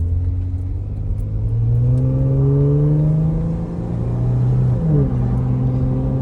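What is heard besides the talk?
2018 Jeep Wrangler JK 3.6L V6 exhaust revving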